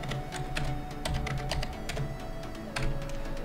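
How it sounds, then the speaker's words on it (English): An IP address typed on a computer keyboard while setting up a Spigot Minecraft server: a quick, uneven run of close keystroke clicks over a faint background hum, with no talking. "Go ahead and copy that and type it in right here."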